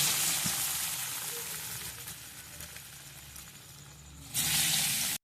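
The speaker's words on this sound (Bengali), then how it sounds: "এখন বড়াগুলো আমার লাল লাল করে ভেজে নিয়েছি" Chana dal fritters deep-frying in oil give a steady broadband sizzle that holds at a fairly even level, then swells louder near the end as the frying noise intensifies.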